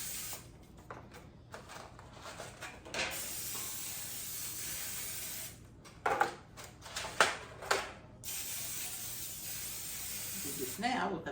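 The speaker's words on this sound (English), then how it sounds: "I'm going to spray them just with regular cooking spray." A can of cooking spray hisses into pans in several long sprays, close and loud, separated by brief pauses and a few clattering handling sounds.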